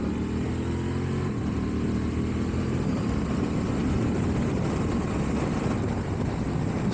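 Honda Transalp 750 motorcycle riding on a road, a steady engine drone mixed with heavy wind rush, continuous and fairly loud throughout.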